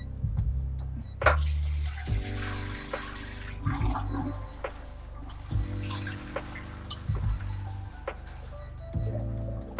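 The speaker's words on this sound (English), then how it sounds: "we are dumping out the water" Water from a pasta pot poured out in a kitchen, a steady splashing and rushing flow with irregular clanks and knocks of the pot over roughly ten seconds, no talking.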